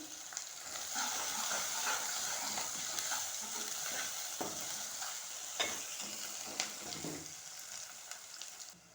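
Ginger and garlic fry in oil with cloves while being stirred for a brinjal curry, a steady close sizzle with scattered spoon scrapes and clinks throughout, no talking.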